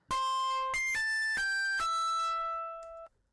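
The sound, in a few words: distortion plugin on punish mode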